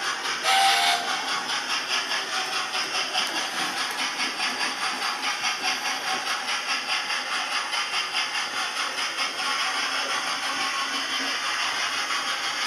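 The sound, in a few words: model train sound decoder steam whistle, Hornby A4 with TTS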